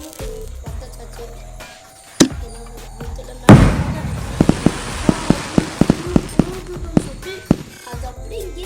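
A firecracker goes off in a video game with one loud burst, followed by a rapid irregular string of sharp crackling pops, over a steady game soundtrack hum.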